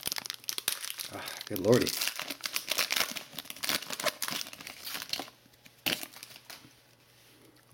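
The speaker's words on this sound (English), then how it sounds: "I'm gonna damage the card just opening the pack." A 2020 Panini Donruss football card pack wrapper torn open, with close, busy crinkling and ripping of foil plastic in bursts, a voice speaking briefly over it, then a quieter stretch with a final crinkle.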